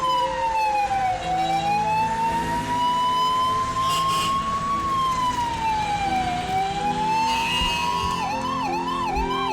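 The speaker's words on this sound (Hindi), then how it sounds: "11:15 बजे एम्बुलेंस चल पड़ी।" An ambulance siren wails steadily, its pitch sweeping slowly up and down, then shifting into a faster warbling pattern near the end, loud over the hum of road traffic.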